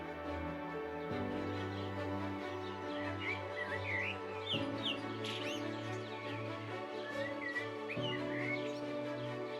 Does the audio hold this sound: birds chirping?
yes